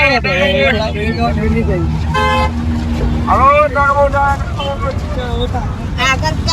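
Busy road traffic on a trip in Gujarat, with car and bus horns honking in short, loud toots over steady engine noise, while people talk loudly nearby.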